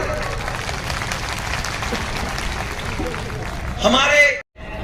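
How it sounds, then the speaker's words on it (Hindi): Loud, dense applause from a large crowd at an outdoor BJP rally in Atal Udyan, Devli, a steady roar of clapping that swells briefly near the end before cutting off abruptly. "एक दमदार ताली बजाए सब लोग जोरदार है।"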